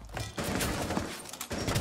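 A rapid string of sharp gunshots in the video game Rainbow Six Siege, several blasts in quick succession, loud and close.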